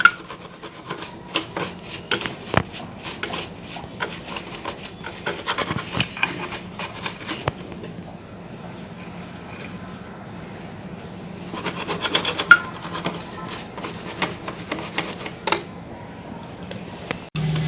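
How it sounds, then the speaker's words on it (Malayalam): An old brush scrubs the needle plate area of a sewing machine, giving repeated close, dry rasping strokes with a brief quieter pause partway through. "അത് നമ്മൾ പതുക്കെ നമ്മളത് പഴയ ബ്രഷ് കൊണ്ട് ക്ലീൻ ചെയ്യുക"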